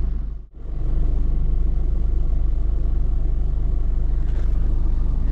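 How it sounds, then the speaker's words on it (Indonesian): A 2017 Isuzu MU-X engine rumbles low and steady as the car creeps forward in a queue, heard close from inside after a brief dip at the start. "Tadi majuin mobil dulu dikit karena yang depan antriannya udah maju"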